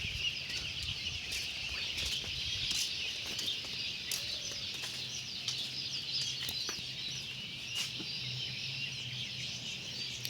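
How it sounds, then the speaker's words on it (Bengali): Broiler chicken chicks on a farm chirp and cheep continuously in a dense, steady chorus, with occasional wing flutters and scattered louder peeps throughout. "মুরগির বাচ্চাগুলো, এগুলো ব্রয়লার চিকেন বলে"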